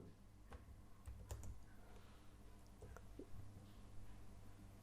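Keys tapped on a computer keyboard while a search keyword is entered, a steady run of light clicks with a few sharper strokes over a low background hum.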